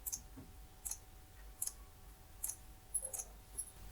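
Mouse clicks on a Windows PC while someone opens the admin command prompt. Sharp, quiet clicks come singly and in pairs at irregular intervals over a low background hum, with no voices.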